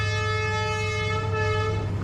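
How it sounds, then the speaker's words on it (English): A train passes close to a Vietnamese street food stall, its horn sounding as a loud, sustained tonal blare over a steady low rumble of rolling wagons throughout. "Train."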